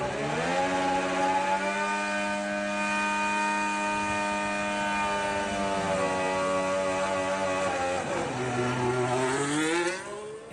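A 2026 Formula One car's engine at preseason testing, a loud, sustained harmonic whine holding steady pitch, then dipping and climbing again as it shifts near the end.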